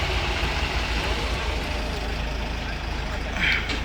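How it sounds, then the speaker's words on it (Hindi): A heavy tractor engine rumbles steadily up close while pulling a car out of a pit, a deep continuous drone with a brief higher whine near the end. "ट्रैक्टर ने निकाली है भाई गाड़ी"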